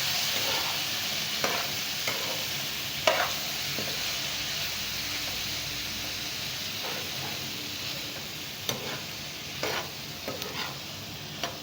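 Cumin seeds and curry leaves sizzle steadily in hot oil for a chickpea chaat, a continuous frying hiss broken by occasional sharper pops and spatters, close and alone with no voices.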